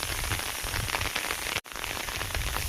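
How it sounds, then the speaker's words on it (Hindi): Monsoon rain falls steadily in a dense, hissing patter on surfaces, loud and close throughout, broken only by a single instant cutout. "बारिश भी बहुत हो रहा है आजकल, पूरी तरह से बारिश है।"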